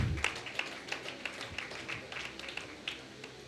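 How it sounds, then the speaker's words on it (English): An audience at a preschool concert and graduation day applauds the children's performance, with steady, moderately loud scattered clapping from many hands that carries on throughout with no talking. "Give them a big, huge round of applause."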